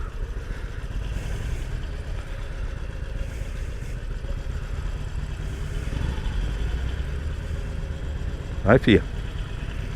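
A Harley-Davidson Iron 883 motorcycle rumbles steadily at low speed in city traffic, its engine note constant beneath a rider's brief spoken words, with a sharp horn-like blip near the end.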